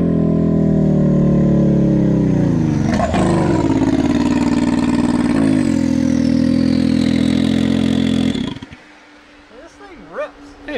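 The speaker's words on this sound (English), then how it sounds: "it's pretty intense with the exhaust. The exhaust is definitely too much" A side-by-side fitted with a Hellcat Demon engine roars and revs hard on dirt, its loud exhaust rising and falling through gear changes for about eight seconds before cutting off, followed by quieter engine noise and brief speech.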